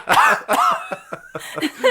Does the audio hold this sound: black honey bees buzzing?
no